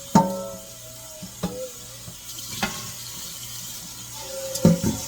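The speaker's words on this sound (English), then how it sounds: "put a bunch of really hot water in there" Hot water from a kitchen tap runs into a big pot while cooking spaghetti, with a soft steady stream broken by several sharp clanks and knocks of the metal pot, and no voices.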